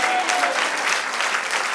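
A church congregation breaks into dense, steady applause, a short burst of clapping that fills the room at a constant level.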